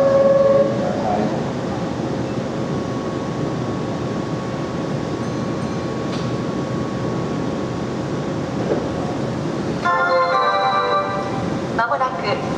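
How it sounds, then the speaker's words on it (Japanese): A Keihan 8000 series express train rumbles steadily through a station, departing at Yodoyabashi, with a continuous roar, a brief high tone near the start, and rattling, squealing wheel noise building toward the end. "特急の発車です。"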